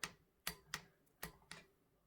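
An Icon 3/8-inch drive torque wrench set to 20 foot-pounds gives five sharp, close clicks at uneven intervals, each a crisp metallic snap with quiet pauses between.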